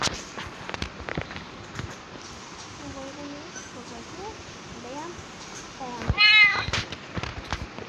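A cat meows a few times softly amid quiet rustling and footsteps, with a brief louder burst of noise near the end.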